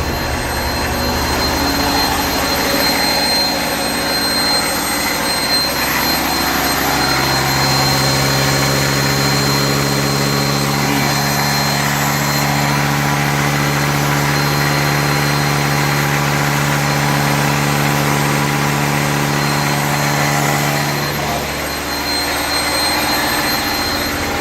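A refurbished truck's engine runs steadily and loudly up close, a continuous droning idle with a rising whine partway through before settling; no one speaks.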